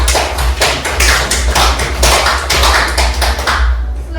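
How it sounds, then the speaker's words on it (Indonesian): Classroom applause for a student, a dense, steady burst of many hands clapping close by for about four seconds with no talk over it. "Tepuk tangan untuk Amora."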